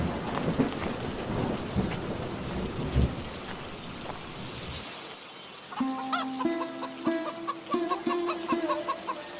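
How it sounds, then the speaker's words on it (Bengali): Cartoon rainstorm at dusk: heavy rain with rumbling thunder fills the first half, then gives way to clucking chickens on a farm. "সন্ধ্যা হয়ে এলো বৃষ্টিও শুরু হয়েছে"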